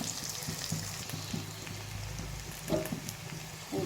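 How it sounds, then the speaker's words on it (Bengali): Green chilies frying in a covered pan, a continuous fine crackle of hot oil broken by a few sharper pops, fairly quiet and close. "কাঁচা মরিচটা যেহেতু ফুটে ফুটে যায়"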